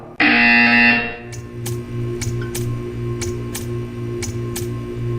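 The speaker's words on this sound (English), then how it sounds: "When you hear the buzzer, stare at the art." A loud harsh electronic buzzer from the video game Portal 2 blares for about a second, followed by a steady hum with regular sharp ticks or clicks repeating.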